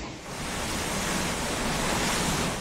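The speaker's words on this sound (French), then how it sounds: "Regarde les vagues, regarde les vagues." Ocean waves churned up by a hurricane off Saint Martin make a loud, continuous roar of surf mixed with rushing wind, rising slightly and staying steady, with no one speaking.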